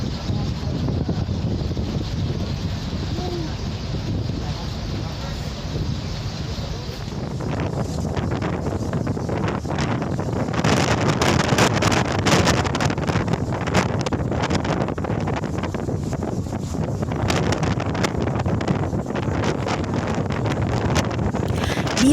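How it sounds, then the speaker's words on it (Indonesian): Strong wind buffets the microphone on the side deck of the passenger ship KM Tilongkabila, a continuous loud roar with gusts that grow rougher after the first several seconds, mixed with low rumble and flapping noise, without clear speech. "Di bagian sisi kiri kanan kapal ini anginnya lumayan kencang teman-teman"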